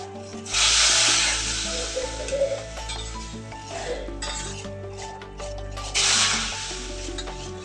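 Mysore pak mixture bubbles and sizzles in hot ghee while a spoon scrapes and clinks against the pan, with two loud bursts of frying hiss over steady stirring.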